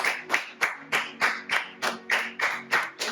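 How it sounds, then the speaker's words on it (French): A church congregation claps in steady unison to welcome a pastor, about eleven crisp, evenly spaced claps at a brisk pace, with a soft sustained tone underneath. "Est-ce que nous pouvons, sous vos acclamations, l'applaudir, la recevoir?"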